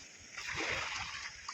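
Sea waves splash and slosh nearby, a single soft watery surge that swells and fades over a moment.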